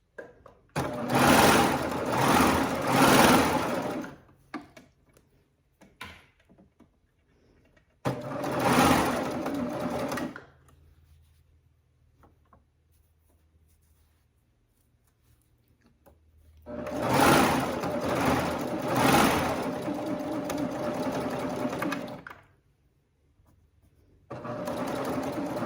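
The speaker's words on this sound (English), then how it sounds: "I'm going to go ahead and sew this side closed." A sewing machine stitches one side of a fabric piece closed in three loud, sustained runs of whirring motor and needle clatter, separated by quiet pauses, with a final short burst at the end.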